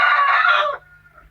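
A ring-necked pheasant gives a single loud, harsh, close call of under a second, which cuts off sharply into quiet.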